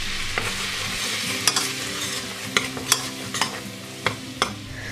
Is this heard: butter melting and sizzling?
yes